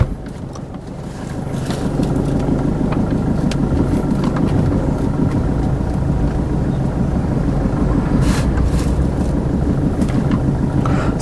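A 2019 Maruti Swift Dzire VDI diesel car moving off and driving, its engine droning steadily and loud from close inside, with a few brief knocks and rattles along the way.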